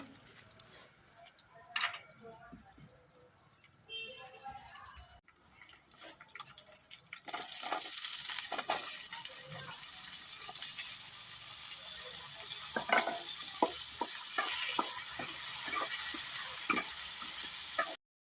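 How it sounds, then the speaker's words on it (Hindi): Cumin and onion sizzle and crackle in oil in a pan, growing louder and steadier after a quiet start, with occasional stirring clinks and scrapes. "मैंने जीरा का और प्याज का तड़का लगा दिया है"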